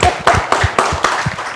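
Rhythmic hand clapping in a group cheer, about seven distinct sharp claps in a quick steady beat, close and clear with little else around them.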